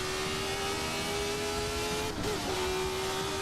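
A 1970s Formula 1 car engine in a sim racing game holds a steady, loud, high-revving drone, briefly dipping and wavering near the end before settling back to a constant whine.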